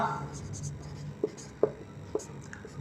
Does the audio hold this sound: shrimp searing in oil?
no